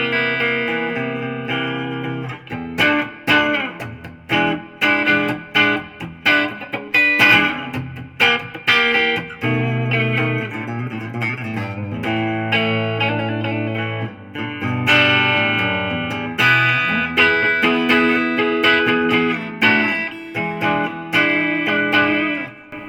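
A 2013 Ibanez AS93 hollow-body electric guitar played through its Super 58 neck pickup, picking out a melodic phrase of chords and single notes with lightly effected, slightly overdriven tone, close and clear with no talking.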